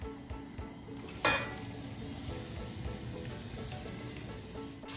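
Ginger and garlic frying in oil in a pan for a traditional lamb curry, giving a steady, close sizzle throughout with a brief louder crackle burst as they hit the hot pan.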